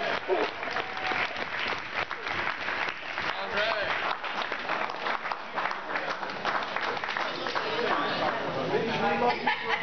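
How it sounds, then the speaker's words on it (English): A dinner audience gives a big round of applause for Greg Shep, loud sustained clapping with some cheering and crowd chatter, while a voice speaks briefly over it. "Let's give him a big round of applause."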